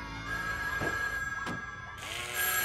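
A telephone rings in a French cartoon, a bright repeating electronic trill heard alone over a music bed.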